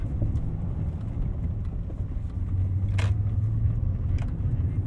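A 2001 BMW E39 M5 on a test drive, its engine a steady low drone and road rumble heard from inside the cabin throughout, with no one talking.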